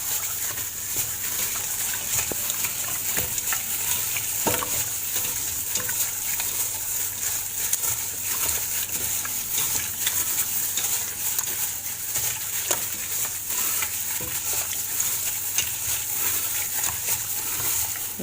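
Chicken satay with sweet soy sauce is stirred in a pan, a steady faint sizzle and hiss with scattered soft clicks and scrapes of the utensil, continuing evenly with no talk.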